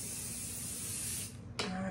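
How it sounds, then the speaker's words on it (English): A spray bottle or aerosol mists over the coat of a show poodle, a long steady hiss that fades, followed by a short sharp second burst. "And I'm going to lightly spray over the top."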